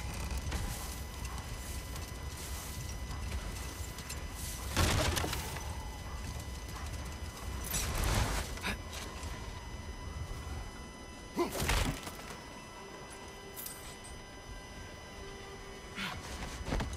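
Domesticated goats pull a sled in God of War Ragnarok, with soft, irregular hoof-like clopping and light rustling over a steady outdoor ambience of wind and occasional bird calls, without talk.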